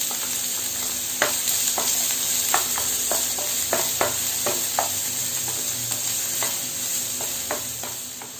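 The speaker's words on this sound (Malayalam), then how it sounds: "ഇനി ഇതിലേക്ക് ഒരു മീഡിയം സവാള ചോപ്പ് ചെയ്ത് അത് ചേർത്ത് കൊടുക്കുക." Chopped onion frying in a pan with oil and cumin seeds for egg thoran, a steady sizzle broken by sharp clicks and scrapes of a spoon stirring at irregular intervals, close up, no voices.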